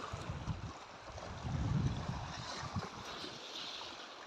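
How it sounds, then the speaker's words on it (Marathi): Choppy water on Pawna lake stirred by strong, cold wind before sunrise: a steady rushing wind roar with low buffeting gusts and lapping water, swelling louder around the middle and staying fairly faint overall. "पाणी बघा किती खवळलेले"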